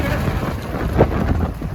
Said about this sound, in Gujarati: વરસાદ એવો ઝીણા ઝીણા છાંટા ચાલુ થઈ ગયા છે